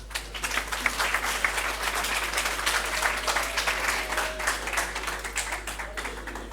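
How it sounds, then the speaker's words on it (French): An audience applauds both teams after overtime at a high school quiz competition, dense sustained clapping filling the room from start to finish with no talking over it. "on ne fait qu'applaudir les deux équipes"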